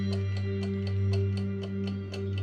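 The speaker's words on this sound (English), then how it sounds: "Let the ticking fill your mind." Steady, evenly spaced ticks of a clock sound close and clear over a constant low hum, about ten beats in a couple of seconds, set in an immersive binaural clockmaker's workshop scene.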